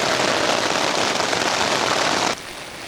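Heavy rain pours down in a dense, loud, constant hiss of drops on a surface, then suddenly drops to a softer level near the end.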